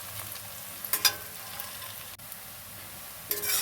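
Onions fry in a pan with a soft, steady sizzle, broken by a few brief scraping stirs and a sharp clink near the end.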